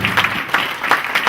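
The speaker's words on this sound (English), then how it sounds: "Let's do a round of applause for that." Audience applause at a county sanitation strategy launch event, a brief burst of clapping from a crowd in a hall, fairly loud and steady.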